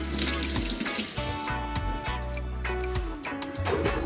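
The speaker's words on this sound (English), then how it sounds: "Wash my hand off." Tap water runs loudly into a sink as hands are rinsed of salt while preparing lane snapper for Jamaican escovitch fried fish, a steady close splashing stream throughout with no talk.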